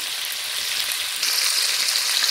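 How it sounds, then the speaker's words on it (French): Green celery frying in a pan, a steady close sizzle and crackle throughout that grows slightly louder and brighter partway through, with no talking. "Maintenant, je vais mettre des céleri verts tout d'abord à la poêle."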